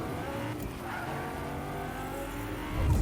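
A Lamborghini races along in a video game, its engine holding a steady drone with tire noise, swelling louder and deeper in the final moments.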